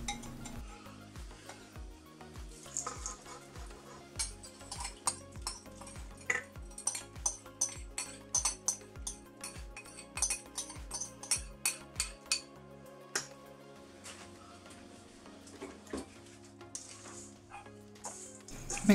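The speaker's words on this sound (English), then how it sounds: "Mix it in, make sure it's really well combined" A spoon working hot melted butter and dissolved sugar into flapjack mixture in a bowl: steady close scraping and knocking strokes in a loose rhythm, fairly quiet, with no one speaking.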